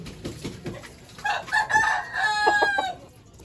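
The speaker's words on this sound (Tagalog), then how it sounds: "kukuha muna tayo ng isang manok" A pale, ailing chicken kept on vitamins, a rooster type bird, gives a few short clucks, then a loud, drawn-out crow close by, ending with clipped clucking notes.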